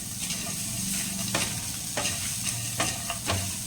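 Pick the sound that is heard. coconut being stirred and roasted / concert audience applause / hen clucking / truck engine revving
coconut being stirred and roasted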